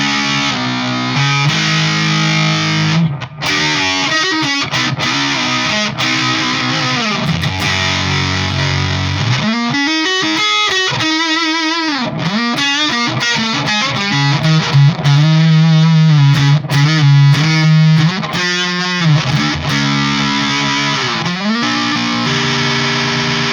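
Electric guitar through a Way Huge Swollen Pickle Jumbo Fuzz MKIII with the crunch switch off and controls at noon, delivering loud, dense fuzz riffs and held notes that alternate with quick staccato passages and short pauses.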